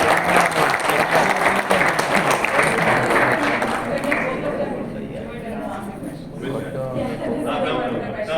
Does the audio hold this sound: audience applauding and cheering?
yes